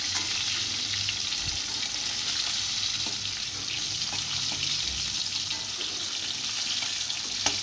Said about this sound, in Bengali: পটলগুলো ভাজা হয়ে গেছে, এবার তুলে নেব।